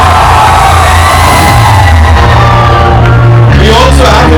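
A loud crowd at a film trailer launch for O'Romeo cheers, whoops and shouts as Nana Patekar is welcomed, a dense, sustained roar of voices close by with some yelling over it.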